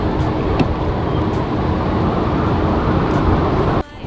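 A Mercedes S550 on the road, heard from inside as a steady, even rumble of engine and tyre noise that holds constant for several seconds before dropping off near the end.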